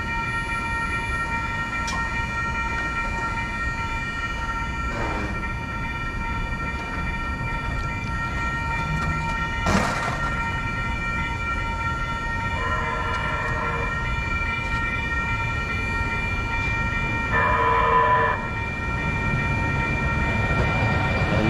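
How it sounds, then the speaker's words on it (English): Metro light rail train crossing on the line in Pasadena at night, with repeated warning-bell or horn tones and a steady rolling rumble throughout, moderately loud and close with no talking. "We're going to end with the Metro line crossing."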